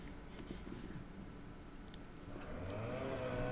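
Motorcycle engine in The Coma 2: Vicious Sisters video game, a mid-pitched motor that grows louder and rises in revs over the last second, under a busy background of game ambience.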